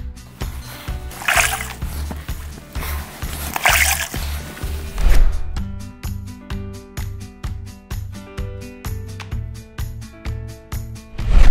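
A wet sponge being wiped across freshly grouted tile in repeated diagonal strokes, producing rhythmic squishing and sloshing at close range, with a steady series of regular wipes in the later part.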